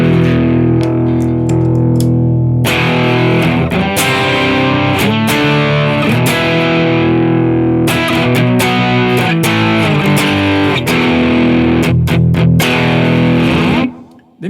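A PRS Custom 24-08 electric guitar through an AmpliTube 5 Brit 8000 amp plays loud, distorted chords and riffs that ring almost without a break before cutting off at the end.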